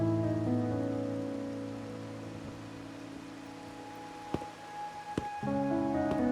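Soft, steady rain from the video game Wuthering Waves patters continuously beneath sustained musical tones, with a couple of sharp clicks breaking through near the end.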